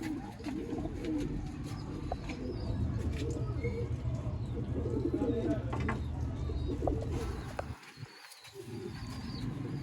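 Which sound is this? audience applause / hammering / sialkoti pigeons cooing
sialkoti pigeons cooing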